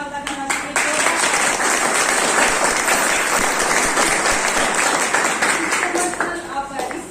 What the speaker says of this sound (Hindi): सभी अपलाइंस का एक बार जोरदार ताली से धन्यवाद अदा करना चाहती